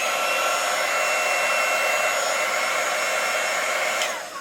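Embossing tool, a small hairdryer-style heat gun, blows steadily to dry rubbing alcohol during a game controller USB cable repair, a close, loud, even whoosh that fades as it shuts off.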